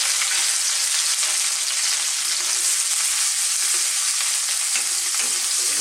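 Ginger, garlic and onion sauté in a hot pan, giving a loud, steady sizzle with a few soft stirring scrapes and no talking.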